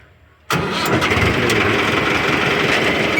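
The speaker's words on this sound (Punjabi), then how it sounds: "ਹੁਣ ਕਰਨੇ ਆਪਾਂ ਟਰੈਕਟਰ ਨੂੰ ਸਟਾਰਟ" A tractor engine catches after a moment of quiet and roars straight into a loud, steady idle, heard up close.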